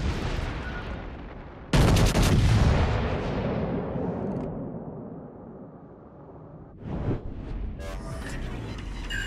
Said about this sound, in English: Requesting fire on the designated target.